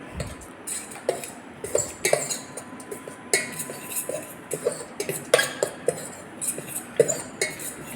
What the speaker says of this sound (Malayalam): ഇനി ഇത് നന്നായി ഒന്ന് മിക്സ് ചെയ്യാം